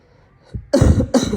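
A person sick with a cold coughs twice, two harsh, close bursts following a faint throaty breath.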